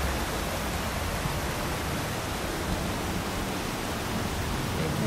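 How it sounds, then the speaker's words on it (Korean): Clean stream water flows steadily through a valley campground after heavy rain, a continuous broadband rush with no breaks, moderately loud and close, with no other sounds standing out. "올해는 비가 많이 와서 계속 깨끗한 물이 줄지를 않고 흐르고 있어요."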